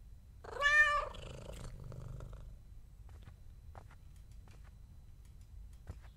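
Purring cat in the video game The Kidnap: a short, loud burst of purr-like rhythmic rumble near the start, then faint intermittent ticks and clicks over a quiet game background.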